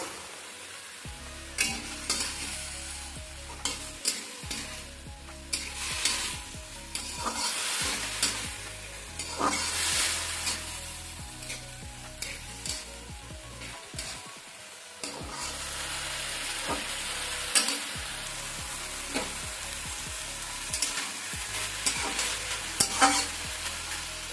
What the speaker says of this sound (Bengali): সমস্ত উপকরণ দিয়ে আমি ভালো করে মশলাটা জড়িয়ে নিলাম।